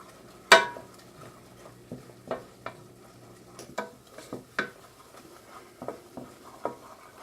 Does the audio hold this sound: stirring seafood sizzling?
yes